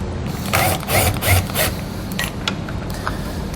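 Screw being driven out of the outer edge of a taillight on a 2017 Chevrolet, a few short ratcheting, grinding mechanical bursts close up, then quieter scraping.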